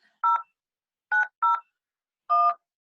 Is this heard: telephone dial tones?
yes